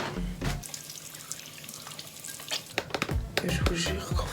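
Water splashes as a face is rinsed at a running sink during a night skincare routine, a steady tap flow with close, uneven splashes and cupped-hand sloshing, busier toward the end, with no talk.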